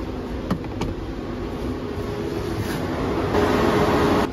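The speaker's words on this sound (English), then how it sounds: "Oh, there's the fan going." A BYD Atto 3 electric car's cooling fan runs during a battery health test, a steady whooshing hum with a faint tonal whine that builds slightly louder toward the end, heard close without speech.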